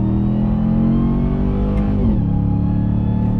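A RAM TRX pickup truck's engine revs hard as it accelerates up a canyon hill, a loud, steady low roar rising in pitch throughout, heard close from inside the cab with no talking.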